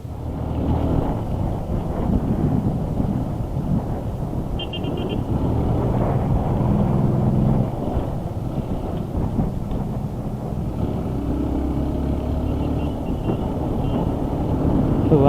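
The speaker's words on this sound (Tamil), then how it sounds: "வண்டி வேறு அப்படியே இந்த பள்ளத்தில் தூக்கி தூக்கி போடுறது ஒரு மாதிரி ஓட்டவே முடியல." A vehicle lurches along a rough, potholed rural road on the way to Jalagamparai Waterfalls near Yelagiri hills, its steady loud engine and road rumble mixing with wind buffeting the microphone and no talking.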